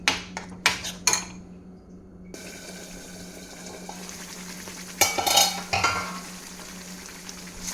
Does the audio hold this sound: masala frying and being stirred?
yes